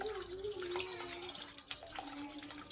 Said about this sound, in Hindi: थोड़ा सा ठंडा ठंडा पानी निकल रहा है कूलर में से